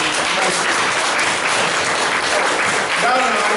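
Applause from the audience at a Republican meeting, a dense, loud wash of clapping filling the whole stretch, with faint voices mixed in.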